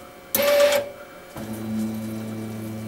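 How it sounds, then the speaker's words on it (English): A UV printer's automatic bed-lowering mechanism runs: a brief loud whirring burst, a pause, then a steady motor hum with a low tone that continues to the end, close by. "It has an automatic lowering mechanism"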